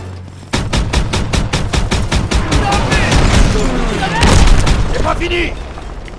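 Rapid, sustained gunfire from the World War II shooter Call of Duty WWII: dense, evenly spaced automatic bursts with heavier booms swelling near the end, loud and close, while a voice talks over the battle.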